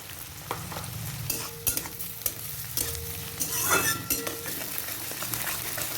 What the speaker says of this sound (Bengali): এখন কাঁচা লঙ্কাটা একটু ভেজে নেব